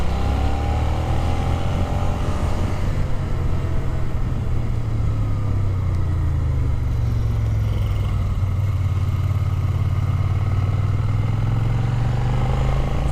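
Suzuki Gladius motorcycle riding hilly, twisty roads on Tenerife, a steady engine drone with wind rush, its pitch rising and falling smoothly through gear and throttle changes.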